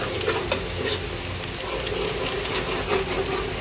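Chicken with kadai masala sizzles loudly in a pan and is stirred, producing a dense, constant frying hiss with occasional scrapes.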